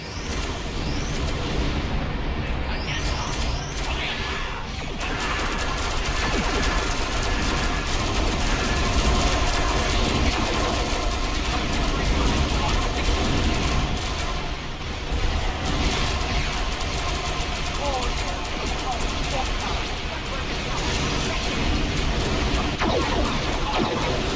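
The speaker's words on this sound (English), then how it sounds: "Taking enemy fire!" Dense weapons fire and explosions from Star Trek Online, a loud continuous barrage of shots and booms filling the whole stretch with no pauses.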